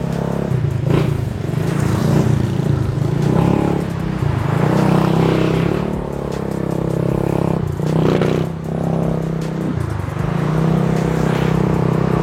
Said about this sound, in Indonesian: jadi sekarang kita cobain motornya aja ke sono ya